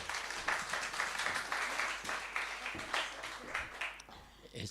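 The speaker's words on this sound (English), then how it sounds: "It's very nice of you to applaud," An audience at an evening poetry event claps after a poet is introduced, a dense, even patter of applause that thins out toward the end.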